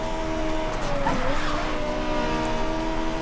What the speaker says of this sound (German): Das sind einfach mal kleine Formel 1 Wagen, keine Ahnung, ganz kleine davon halt. Verdammt schnell.